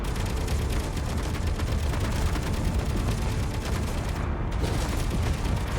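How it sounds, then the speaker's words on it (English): Dense, continuous gunfire in a video game, a loud barrage of overlapping shots and booms rumbling without pause throughout. "Oh, we're getting shot."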